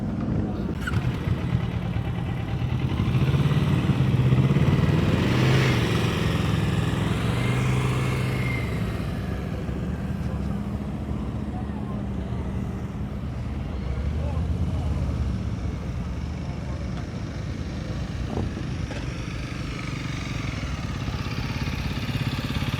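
A motorcycle rumbles at low speed in a practice session, its engine holding a steady idle with small throttle rises while people talk over it.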